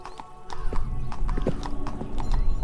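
Horse hooves clip-clop at a walking pace in the medieval RPG 1428: Shadows over Silesia, steady close thuds with a faint whinny-like tone underneath.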